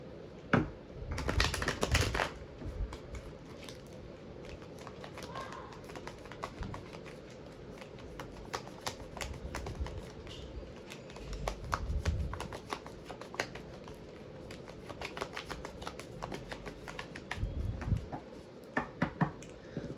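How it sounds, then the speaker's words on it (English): Tarot cards are cleared and shuffled close by, with a loud riffle near the start followed by repeated soft flicks, taps and shuffling bursts across the stretch, no talk. "I'm just gonna clear the cards here."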